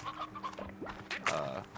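A chicken clucks in a slime-ranching video game: a few short, throaty clucks and squawks, moderately close but quiet, with no talk over them.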